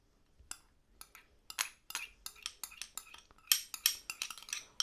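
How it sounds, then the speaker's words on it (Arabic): A spoon clinks and scrapes against a bowl while dry dough ingredients with yeast are stirred before oil and ghee are added for a crisp finger pastry. Irregular, close, quiet taps and scrapes with no talking. "وهنزل بيها واقلب، وهضيف المكونات اللي هي السايلة وهي الزيت والسمنة"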